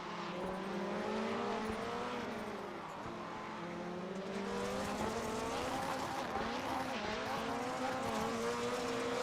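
Rally cars slide across gravel in a sim racing game on the Atlanta Short rallycross course, engines droning and rising in pitch together as tyres scrabble through a steady, continuous pass with no voices.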